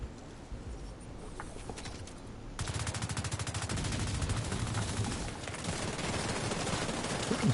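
Dense automatic gunfire in The Division 2, a shooter fired through a wall, starts after a quieter opening stretch and keeps up as fast, steady bursts of close, loud shots with no talking.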